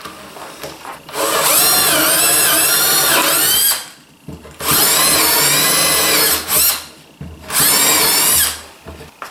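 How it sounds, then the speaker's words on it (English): A handheld power drill runs in three long bursts close by, whining at high speed with brief pauses between, while assembling a wooden dresser in a workshop. "Now all I need is a drill."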